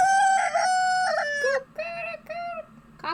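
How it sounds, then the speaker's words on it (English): A rooster crows in the game I Love You, Colonel Sanders!, a loud, close cock-a-doodle-doo in several drawn-out tonal phrases followed by a second shorter crow, with no talk over it. "Cock-a-doodle-doo!"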